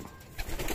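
A blue bar pigeon coos once, soft and brief, close by in a quiet loft.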